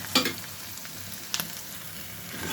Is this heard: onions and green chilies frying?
yes